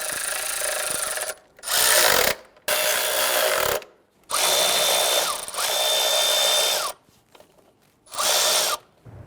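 Bursts from a power tool tightening the intake manifold nuts on a 1999-2004 Jeep Grand Cherokee 4.7L V8: four whirring runs of a second or two each, separated by short pauses, close and fairly loud.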